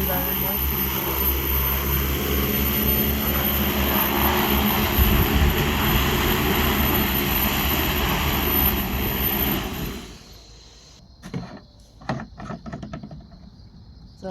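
The rotors of a 10 litre agricultural sprayer drone whir steadily and loudly for about ten seconds, then cut out, leaving brief scattered noises and quieter background.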